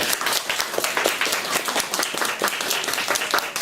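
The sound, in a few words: applause for an orange belt award in kung fu class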